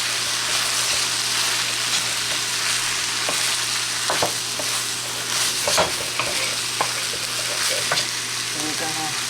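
Fried rice stirred and frying in a pan after browning sauce goes in, a steady close sizzle with scraping stir strokes and light clicks of the utensil throughout, no talking.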